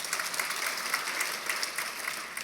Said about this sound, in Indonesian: Anda beri tepuk tangan dengan tulus